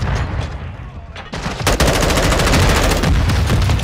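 In Call of Duty: Modern Warfare II, automatic weapon fire starts partway through and rattles on as a loud, rapid, continuous stream of shots over dense battle noise.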